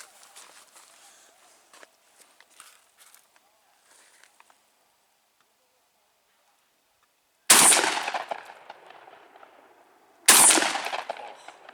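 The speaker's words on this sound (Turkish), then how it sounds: "Atışımızı yaptık" A D-DOXCARMS DCX-26 cantilever rifle fires two sharp, loud reports a few seconds apart at a steel plate target during test firing, each with a ringing decay, after quieter movement and faint talk.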